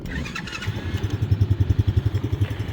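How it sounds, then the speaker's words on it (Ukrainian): The 125 cc engine of a Mikilon Hammer children's quad bike cranks over briefly on push-button start, then catches and settles into a rapid, pulsing idle, close by and fairly loud. "Все, наш двигунець запустився."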